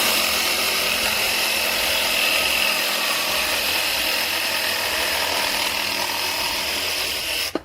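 Ryobi 18V ONE+ cordless jigsaw cutting an intricate shape, a steady, loud buzzing whine running unbroken for several seconds and then stopping abruptly at the end, with no talk over it.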